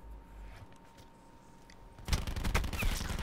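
Call of Duty Black Ops 4 gunfire in an online public match: after a quiet start, a loud, close burst of rapid shots rattles on to the end.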